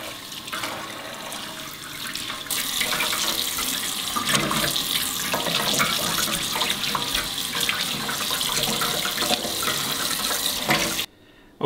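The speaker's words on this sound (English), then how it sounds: "you really want to spend some time and rinse this very, very well." Tap water runs steadily into a sink while cured pork bellies are rinsed, a loud close gushing stream that swells after a couple of seconds and cuts off near the end, with no talking.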